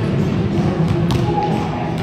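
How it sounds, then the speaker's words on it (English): Basketball thudding while someone shoots hoops, with a couple of dull, short thumps against a noisy background. "Just watch you shoot some hoops, I guess."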